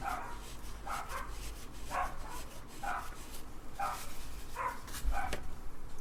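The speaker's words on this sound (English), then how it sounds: "Oh, you can hear my 2 dogs outside barking." Two dogs bark outdoors, a bit distant and fairly faint: about seven sharp barks in an uneven rhythm over a low background hum, with no talking.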